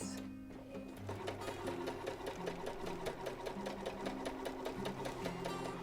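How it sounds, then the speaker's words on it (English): A domestic sewing machine runs a straight stitch seam across fabric, a steady rapid mechanical clatter of needle strokes with a low motor hum, close and continuous, alone without talk. "using a domestic sewing machine on a straight stitch, we're going to make a seam that goes all the way across"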